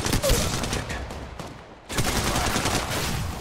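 Dense rapid gunfire from Apex Legends Mobile, loud and close, bursting continuously with a brief lull near the middle before resuming at full intensity.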